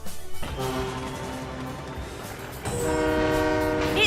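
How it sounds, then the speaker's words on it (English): An American diesel locomotive horn sound effect, the one used for the diesel engine Mavis in Thomas & Friends, sounds as a sustained, loud chord-like blast, dropping slightly and then swelling again with a second long tone. "while the American Diesel horn sound would later be reused for Mavis from Season 15 onwards."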